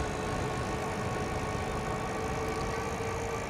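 Monarc Tracer city e-bike running under throttle in 5th gear at about 16 to 17 mph, giving a steady, continuous motor and wind rush that holds at an even level throughout.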